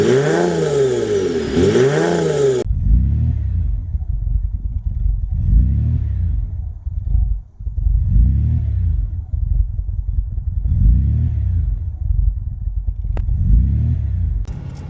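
A Nissan Stagea M35 with a VQ25DET engine idles steadily after earlier starting trouble, a continuous low rumble with slight rhythmic surges, close and fairly loud, heard alone after a brief burst of music at the start.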